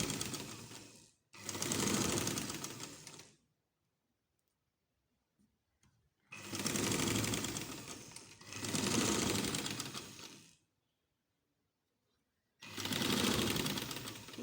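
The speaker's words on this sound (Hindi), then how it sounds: "इस तरह से इसके साथ साथ सिलाई लगानी है।" A sewing machine stitches a baby frock in several runs of a few seconds each, with a steady fast whir and clatter. Quiet gaps separate the runs, and the machine sounds close and clear.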